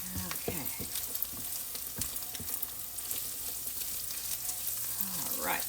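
Ground meat browning in a pan for street tacos, a steady close sizzle and crackle with occasional scraping stirs, no talking.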